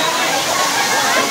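A waterfall in a lane gives a steady, close rushing hiss of falling water, loud and unbroken for a brief moment.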